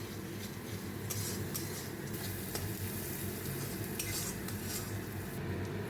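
A spoon stirs a spice paste of green chilli, turmeric and salt around a pan, with steady scraping and clinking against a low sizzle that runs evenly throughout.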